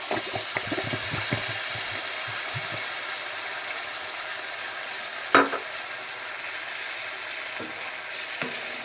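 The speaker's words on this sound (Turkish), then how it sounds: "Arkadaşlar şimdi bir şişe domates suyunu da üstüne döküyoruz." Tomato juice poured over vegetables frying in a pan, a steady loud sizzle with a few clinks of stirring early on and a sharp knock midway, no talk.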